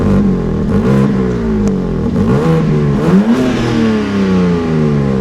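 A 2021 BMW M3/M4 Competition engine, 510 hp, with its exhaust valve closed, runs steadily and quietly at idle, a low, smooth rumble with a few gentle blips in pitch, close by and alone.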